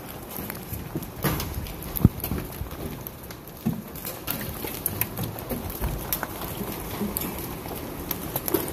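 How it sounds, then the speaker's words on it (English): Golf ball size hail falls and strikes a house, an irregular clatter of hard knocks and thuds over a steady rushing patter. "golf ball size hail."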